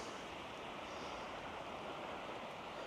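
Steady, broadband rush of river water flowing past the bank on a calm early evening, constant and close, with no voices.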